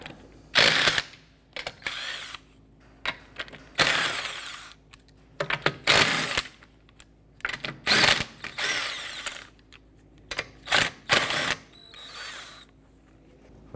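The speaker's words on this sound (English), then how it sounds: "let's go ahead and remove our lug nuts" A power tool with a 19mm socket spins lug nuts off a 2004-2008 Acura TL wheel, sounding as repeated loud whirring bursts with ratcheting rattles, separated by short quiet pauses and a soft background hum, no voices.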